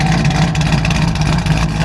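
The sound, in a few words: truck engine exhaust with Black Widow mufflers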